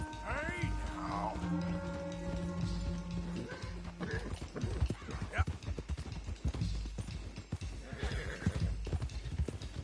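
Horse hooves clip-clop in Red Dead Redemption 2, a steady run of close hoofbeats with a whinny early on, mixed with game sounds and someone talking over it.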